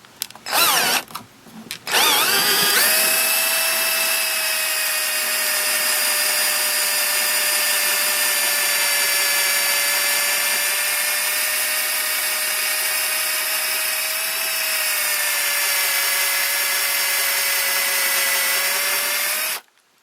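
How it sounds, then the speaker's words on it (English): Electric drill with a dull 1/2 inch bit boring into a Commodore 64 plastic case: a few brief starts, then a loud, sustained whining grind held steady for about seventeen seconds before cutting off abruptly. "then we're going to switch to a big 1/2 inch drill bit"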